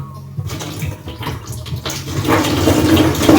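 Water poured from close by over dreadlocks during hand styling, a loud splashing rush that builds and thickens toward the end.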